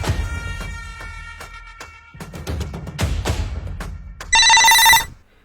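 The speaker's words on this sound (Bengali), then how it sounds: "আমি তাড়াতাড়ি ম্যাডামকে ফোন করি।" A telephone ringing on an outgoing call, a repeated ring tone with a louder electronic burst near the end, heard over background music in an office setting.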